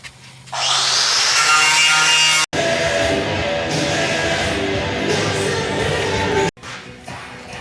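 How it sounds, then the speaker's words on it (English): An air chisel chips hard deposits off a Ford motor home, making a loud, continuous rasping hammer that runs for several seconds, breaks off briefly, then resumes before a final short stop. "I can see we got everything off that we could get with the air chisel"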